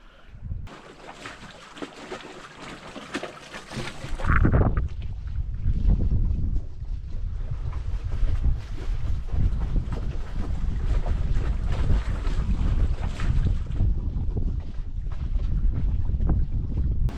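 Strong wind of about 20 knots roars across a sailboat out past an island, a loud, steady gusting rush with water noise beneath after a quieter opening few seconds.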